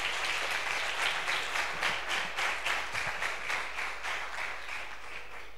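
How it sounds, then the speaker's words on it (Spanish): An audience at a science fair closing ceremony claps warmly, a dense burst of applause with some audible individual claps that stays strong and then slowly tapers. "Ahora sí, un fuerte aplauso para él."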